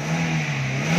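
A 2007 Chevrolet Captiva engine being revved, heard as a brief, steady mid-pitched engine hum, close and even, with no voices.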